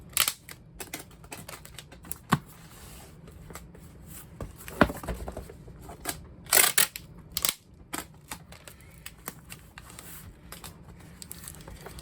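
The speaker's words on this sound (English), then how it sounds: "Then tape the sides." Packing tape is pulled and pressed onto the sides of a cardboard record shipping box, with scattered sharp crinkles, taps and ripping bursts over a quiet background.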